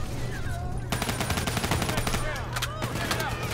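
Rapid bursts of gunfire in Call of Duty: Black Ops III crackle in quick succession over a low background hum, with faint electronic tones, loud and close.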